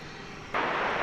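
A Delta Airbus A320 airliner at Dallas–Fort Worth airport gives a steady engine hum that swells suddenly louder halfway through the brief moment.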